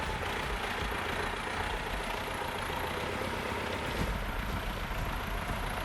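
An aging tractor engine runs deep in a forest while the tractor sits stuck in thick mud, producing a steady, moderately quiet rumble that continues throughout with no voices.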